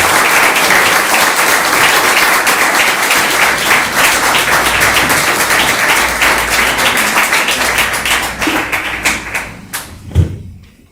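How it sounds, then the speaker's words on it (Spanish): Sustained applause from a large crowd fills the space, steady and loud, then thins out with a few scattered claps near the end. "ntonces al contraalmirante Juan Carlos Neves con un fuerte aplauso."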